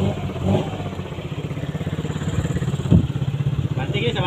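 Motorcycle engine running steadily nearby with a rhythmic idling putter and a brief rev near the middle, while people talk over it.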